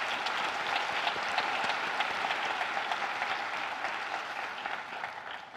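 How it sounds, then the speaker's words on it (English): A crowd claps at the Roanoke Rapids High School 2022 commencement ceremony, a full, even round of applause lasting several seconds and fading a little toward the close. "Let's give them a round of applause."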